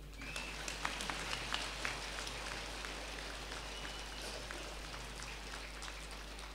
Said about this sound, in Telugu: ధ్యానం పిచ్చోళ్ళందరికీ చప్పట్లు